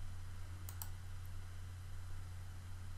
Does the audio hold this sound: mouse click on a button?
yes